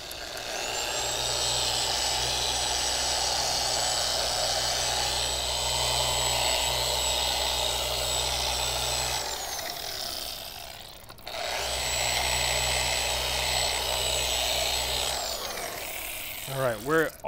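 A polishing tool buffs an old-finish Ferrari F355 wheel at slow speed, giving a steady whirring drone that runs for several seconds, stops briefly, then resumes at a similar level.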